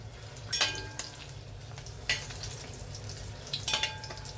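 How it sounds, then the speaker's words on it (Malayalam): Dried red chillies frying in hot oil for a sardine chammanthi make a steady sizzle with a few sharp spatters and pops breaking through. "ആദ്യം നമുക്ക് മുളകാണ് വറുത്ത് കോരി എടുക്കേണ്ടത്."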